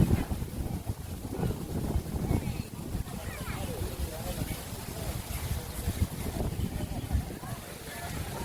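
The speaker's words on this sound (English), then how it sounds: "There's a little breeze here, but just a beautiful day in general." A light breeze on a Caribbean island beach at a cruise line's private island rumbles as gusty wind buffeting close to the microphone, continuous throughout, with people talking underneath.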